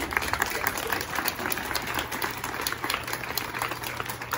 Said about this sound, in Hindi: हम सब जोरदार तालियों से बाबा को ब्लेसिंग देते हैं।